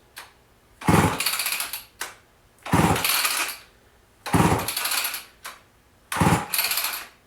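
A Homelite XL12 chainsaw that has sat unused is pull-started repeatedly, giving four close rough bursts of sputtering engine noise, each preceded by a short cord pull, none catching for long.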